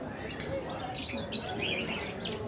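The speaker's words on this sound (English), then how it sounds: "Birds." Several small birds chirp and tweet in quick bursts in a park in Agadir, Morocco, against a busy outdoor background, with people talking at low volume nearby.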